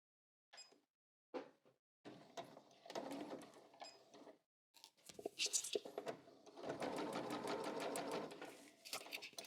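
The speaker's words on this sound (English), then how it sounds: "I'm sewing to my tailor tack" A home sewing machine runs in short bursts and then a longer steady stretch of rapid, rhythmic stitching while a straight-stitch side seam on a pair of pants is sewn up to a tailor tack, fairly quiet and close.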